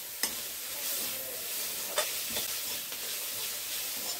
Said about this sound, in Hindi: और इसे अच्छे से मिक्स कर लूंगी।